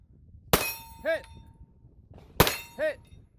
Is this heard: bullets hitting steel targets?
yes